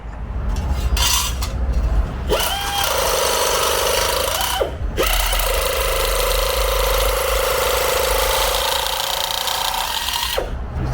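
Variable speed power tool working on the cab A-pillar of a 1962 Chevrolet C10 pickup truck, whirring at partial speed in long sustained bursts with brief stops between runs.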